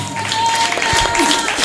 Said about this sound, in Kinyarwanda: Komera Yesu amashyi menshi.